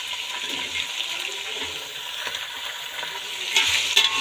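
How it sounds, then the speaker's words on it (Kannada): Onions frying in oil for upma give a steady close hiss and sizzle, with a few soft stirring scrapes and a brief louder burst near the end. "ಈರುಳ್ಳಿ ಎಲ್ಲ ಹಸಿ ವಾಸನೆ ಹೋಗೋವರೆಗೂ ಎಣ್ಣೆಲಿ ಫ್ರೈ ಮಾಡ್ತಾ ಬರಬೇಕು"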